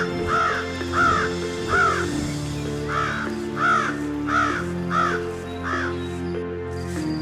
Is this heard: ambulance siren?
no